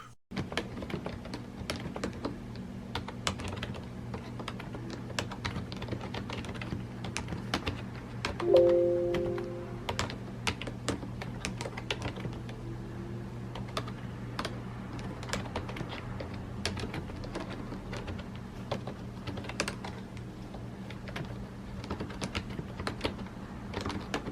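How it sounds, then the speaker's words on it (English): Steady clicking of keys on a Microsoft Ergonomic Keyboard with thin ABS keycaps, an even stream of light taps over a low background hum, with a brief chime partway through. "here's what the keyboard sounds like"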